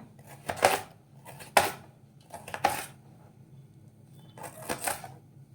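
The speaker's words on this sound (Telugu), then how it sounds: "చక్రాల్లా కట్ చేసుకోవాలి. ఎంత సన్నగా కట్ చేసుకుంటే అంత ఫాస్ట్గా అయిపోతుంది ఫ్రై కూడా." A knife slices bitter gourd into thin rings on a cutting board, producing four separate crisp, close chopping taps with short pauses between them in a quiet kitchen.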